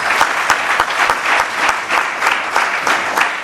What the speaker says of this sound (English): we give a very big applause to the organizers of this conference